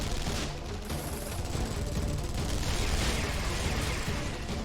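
Rapid bursts of gunfire from a fight scene in the video game Guilty Gear Strive, a dense, sustained crackle of shots layered over game sound with no clear speech.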